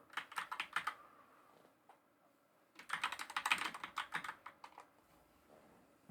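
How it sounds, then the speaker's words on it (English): A loud computer keyboard clatters with two bursts of rapid, close typing separated by a short pause, each keystroke crisp and distinct in a quiet room. "This keyboard's so loud, I might have to get another keyboard to type on for videos"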